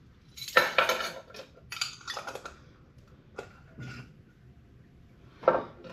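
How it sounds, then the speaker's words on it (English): A spoon stirs ground cardamom into apple cider in a metal pot, making a few close, bright clinks and scrapes in short bursts separated by quiet pauses. "And we're going to give that a stir."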